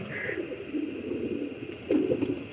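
Pigeons from a fancier's prized breeding pair coo in soft, low, throaty bursts, one near the start and a stronger one toward the end, over a faint background hum.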